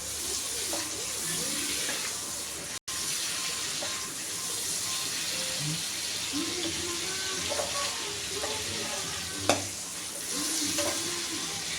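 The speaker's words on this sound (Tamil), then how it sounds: "2 பச்சை மிளகா கீரி பட்டரில் ஆட் பண்ணிக்கலாம்" Slit green chillies sizzling in hot butter in a kadai, a steady close frying hiss with occasional stirring scrapes and a brief clink, no voices.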